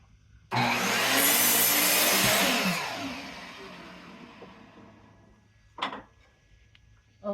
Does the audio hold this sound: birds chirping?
no